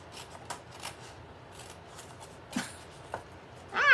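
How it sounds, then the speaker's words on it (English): Scissors snip through the corners of a folded paper envelope gift pouch in a few quiet, separate cuts with soft paper rustling between them, close by and without talk. "Go ahead and cut both corners off."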